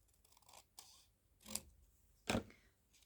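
Journal pages torn out by hand, with a few sharp ripping bursts, the loudest near the end, separated by quiet rustling of paper close by.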